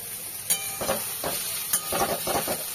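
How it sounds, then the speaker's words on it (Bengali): Fish frying in a pan, spluttering with sharp crackling pops that burst out irregularly over a steady close sizzle. "মাছটা ভাজা বসিয়ে দিয়েছি, সাংঘাতিক ফাটছে"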